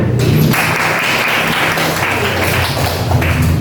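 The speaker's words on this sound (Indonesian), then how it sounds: "Hebat semuanya, tepuk tangan." Loud applause from a classroom group, a dense steady clatter of many hands clapping for several seconds.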